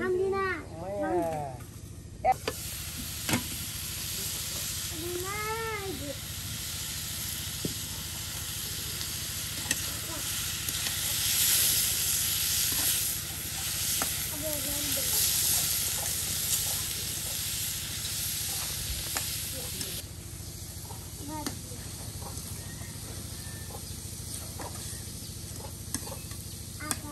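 Papaya bhaji cooked village style, frying and stirred in a pan, with a loud steady hiss for most of the stretch that then drops away, while voices talk over it.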